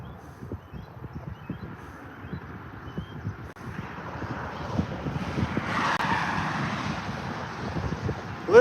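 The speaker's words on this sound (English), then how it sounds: "A little bit windy this morning" Blustery morning wind on the Columbia River buffeting the microphone with a steady low rumble and gusts, rising slightly toward the end.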